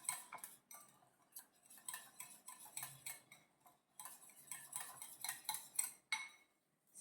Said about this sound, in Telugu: అంతలోకి కొంచెం ప్రాపర్గా బీట్ చేసుకుంటాను.